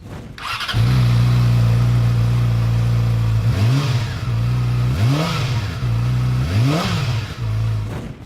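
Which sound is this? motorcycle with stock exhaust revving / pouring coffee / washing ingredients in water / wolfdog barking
motorcycle with stock exhaust revving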